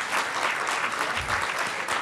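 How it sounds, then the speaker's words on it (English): An audience at a business economic forum gives the panelists a round of applause, a thick, even wash of many hands clapping at once, steady and sustained with no speech over it. "How about a round of applause for our panelists?"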